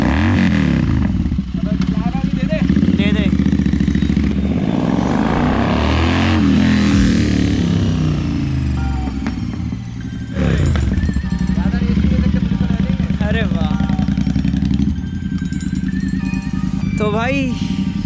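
A Royal Enfield Interceptor 650 motorcycle with an aftermarket exhaust idles loudly nearby while standing still and is revved several times, the exhaust rising and falling in throaty bursts.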